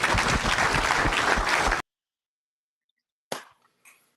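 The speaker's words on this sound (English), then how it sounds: "the Elsing Family Pulling Team, let's give them a round of applause." An audience applauds the Elsing Family Pulling Team: loud, dense clapping runs for under two seconds and cuts off abruptly into silence, followed by two brief, sharp knocks.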